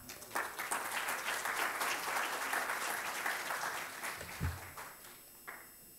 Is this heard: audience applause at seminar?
yes